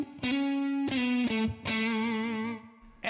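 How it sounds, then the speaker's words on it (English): A Stratocaster electric guitar played through a Tonex Jackson Amp Works boutique amp model rings out in several sustained notes and chords, each struck clearly and left to ring, alone without talk. "The Jackson Amp Works, one of my favorite tones with a Stratocaster"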